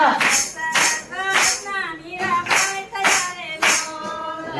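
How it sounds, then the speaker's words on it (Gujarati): A devotional satsang group in Bhavnagar claps in steady unison along to a sung Gujarati bhajan about Mirabai, loud sharp claps landing roughly twice a second under the singing voices. "તાળી પાડો હરિના નામની રે"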